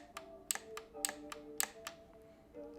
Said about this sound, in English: it makes a little clicking sound when you are shifting